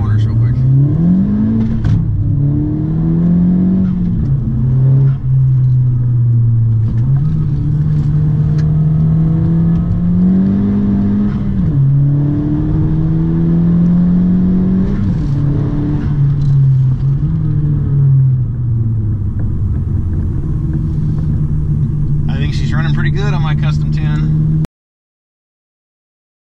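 A 2017 Honda Civic 1.5T with a catless RV6 downpipe driven around corners, its engine note rising and falling through repeated revs and shifts, loud and close, with a voice talking over part of it.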